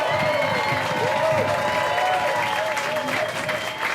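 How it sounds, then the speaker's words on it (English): A crowd at a pro-life gathering in Minnesota breaks into steady, dense applause mixed with cheering and shouted voices, loud and continuous throughout. "Let's give them a round of applause right now."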